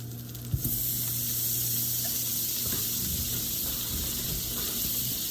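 Butter sizzles steadily in a hot pan, a loud continuous crackling hiss that starts with a brief clatter and runs unbroken to the end.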